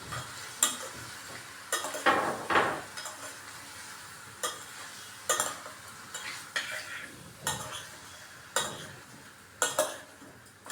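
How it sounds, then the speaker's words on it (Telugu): Raw rice fried and stirred in a pan with onions for mushroom biryani: repeated scraping strokes of a spoon against the pan over a soft, steady sizzle, close and alone. "ఇప్పుడు రైస్ వేస్తున్నాను అట్లా పచ్చిగానే వేసేయాలి వేసి దీనిలో ఒక నిమిషం ఫ్రై చేయాలి"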